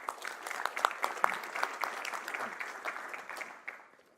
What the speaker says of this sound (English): a round of applause for Brian and yourself.